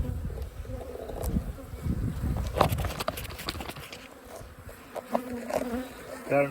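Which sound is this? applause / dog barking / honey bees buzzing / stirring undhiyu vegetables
honey bees buzzing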